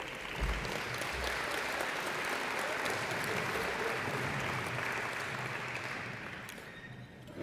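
Audience at an athletic hall of fame breakfast applauding, a steady wash of clapping from a large room that holds for several seconds before tapering off.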